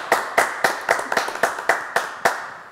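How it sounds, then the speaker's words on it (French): Sparse, rhythmic clapping from just a few hands for a singer in a live radio segment, about ten distinct close claps in a steady beat. "On va l'applaudir quand même"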